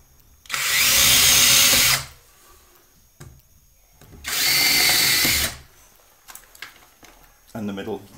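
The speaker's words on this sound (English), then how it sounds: "don't forget to screw your screws in, stepped back a bit so that it goes into the riser" A power drill drives screws into a wooden stair riser in two loud, sustained whirring bursts separated by quiet pauses, with a short burst of clattering handling noise at the end.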